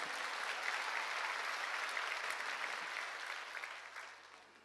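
A church congregation at a summer mountain revival meeting claps together, a dense, even roar of applause that gradually thins and fades out.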